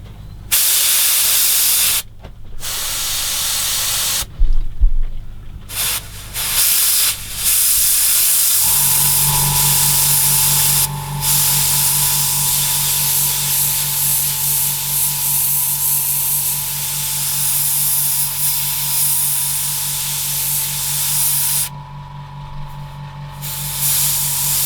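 An aerosol spray can paints a 1/8 scale Dalek model from Doctor Who, giving long, loud, steady hissing bursts broken by short pauses, close to the listener.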